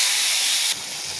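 Coriander leaves dropped into a hot pan after fried chilies, a loud, close burst of hissing sizzle that suddenly drops to a quieter steady fizz.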